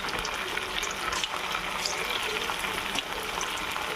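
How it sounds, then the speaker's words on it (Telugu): Chicken pakodi pieces frying in hot oil in a kadai, a dense continuous bubbling sizzle filling the whole stretch, close and steady with no voices. "ఎక్కిందండి ఆయిల్. మనం చికెన్ పకోడీ వేసేసుకుందాం."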